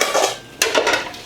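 Kitchen bowls are handled and set down during a decluttering sort, making two quick bursts of ceramic clatter and clinking, close and fairly loud, with no talking.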